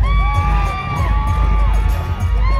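A crowd cheers and whoops at an offroad UTV racing bounty course, with rising whistle-like shouts over a steady low engine rumble, loud and continuous for a few seconds.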